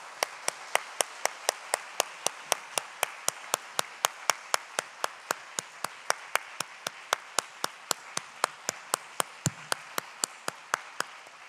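A church congregation claps in a steady, evenly paced beat, roughly three crisp claps per second, continuing at a moderate level for over ten seconds in a reverberant hall.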